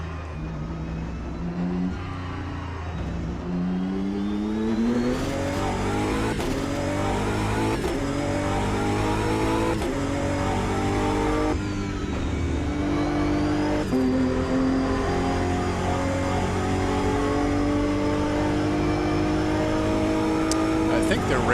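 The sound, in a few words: race car engine at Monza in the video game AMS2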